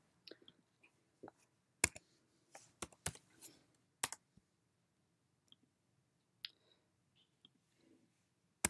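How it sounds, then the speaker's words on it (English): Computer mouse clicks on a point in a mapping program, as scattered sharp clicks and taps with silent gaps, close and quiet, no talking. "To show the ID, just click on the point."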